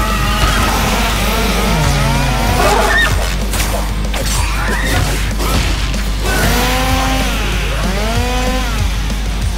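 Chainsaw-wielding enemies in the Devil May Cry video game: loud, dense game audio with a revving whine that repeatedly rises and falls, mixed with crashes and impacts.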